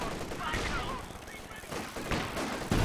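Anti-tank 6-pounder guns fire in a Company of Heroes 2 battle, several heavy booming shots spaced over a few seconds amid a noisy wash of combat, with louder blasts near the end.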